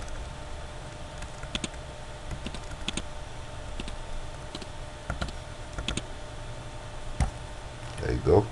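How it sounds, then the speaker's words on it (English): Computer keyboard keys, including the arrow keys, are tapped in scattered single clicks and short bursts during a logo design session, fairly close over a steady background hiss, with faint talk at moments. "You know what, I think I'm just going to use the arrow keys."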